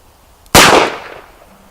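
A single loud, close gunshot from a Smith and Wesson 10-5 revolver fired double action, a sharp crack that decays over about half a second.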